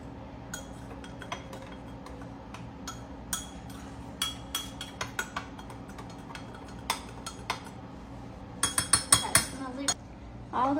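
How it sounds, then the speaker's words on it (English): A big spoon stirring melted butter in a pot, giving repeated light clinks and scrapes against the metal at an irregular pace, growing busier toward the end, over a steady background hum. "I'm just stirring it now."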